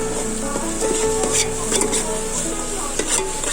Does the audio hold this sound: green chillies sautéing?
yes